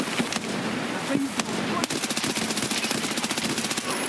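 Rapid automatic gunfire from the shooter video game Escape From Tarkov, loud and close, crackling in dense bursts for several seconds with sharp individual shots between.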